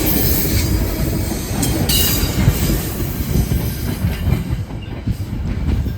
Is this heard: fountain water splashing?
no